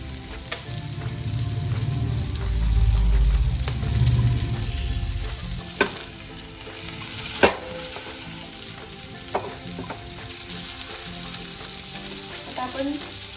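Semolina-coated prawns shallow-fry in a pan for a spicy Kolambi fry, giving a loud, steady sizzle with a deep crackling surge early on and occasional spatula taps while the pieces are turned.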